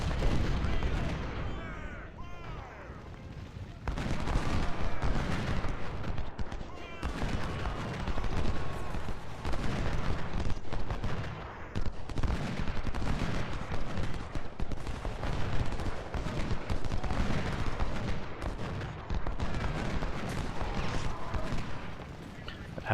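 Civil War artillery battery and musket volleys in Ultimate General: Civil War crack and boom repeatedly in dense, overlapping bursts, loud and sustained, with a voice speaking intermittently underneath.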